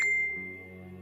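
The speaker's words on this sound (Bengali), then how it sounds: "তখন ফোনটা বেজে উঠল।" A phone ringtone sound effect gives a single bright chime that rings out clearly and then fades slowly over a low sustained tone, with no voices.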